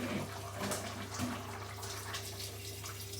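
Hot water pours steadily into a cooking pot for a one-pot meal, a continuous close splashing rush at moderate volume with no speech over it.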